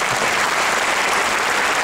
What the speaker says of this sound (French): Monsieur Cyril Girardeau, on peut l'applaudir très fort.